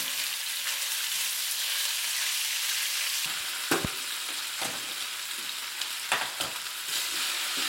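Eggplant browning in a frying pan gives a loud, continuous sizzle, broken by a few sharp clacks and scrapes of a utensil stirring the pieces.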